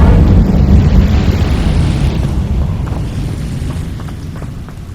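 Incendio fire spell cast in Hogwarts Legacy, a loud roaring burst of flame that whooshes up at once and slowly dies away over several seconds, with no talking.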